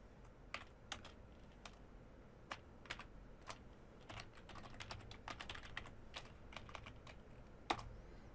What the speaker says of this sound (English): So I'm going to type west.